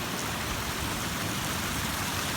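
Creek water flows steadily through a roadside ditch behind a mailbox on rural acreage, a close, continuous rushing wash with no breaks from start to finish.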